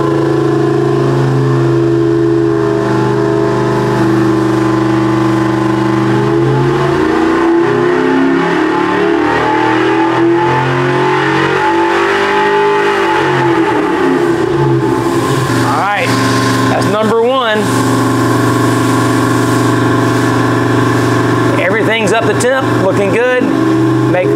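On a Superflow dyno, an engine runs a power sweep, droning loud and steady before its pitch climbs and falls through a long rising sweep. Harsh revving bursts near the end cut through, and some voices sound under the noise.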